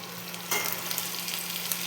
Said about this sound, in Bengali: পেঁয়াজটা ভালো মতন একটু ভেজে নিতে হবে।